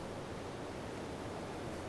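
Ocean waves in The Legend of Zelda: Breath of the Wild, a steady, even roar of surf and wash with no distinct breaks, continuous and moderately loud.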